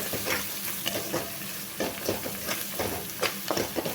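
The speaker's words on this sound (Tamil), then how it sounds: "எண்ணெயிலே வணக்கி விடுங்க." Chicken and coriander leaves sauté in hot oil, sizzling steadily and close, with scrapes and stirring clatter running throughout.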